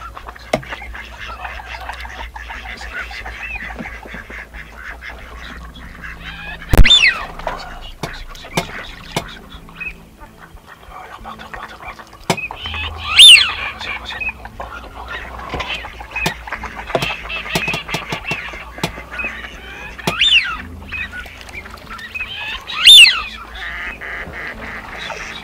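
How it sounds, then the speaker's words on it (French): Gadwall ducks quack and call repeatedly outdoors near decoys, some calls close and sharp, others softer, with occasional clicks and rustling between them. "Deux canards chipos sont en train de tourner autour des appelants."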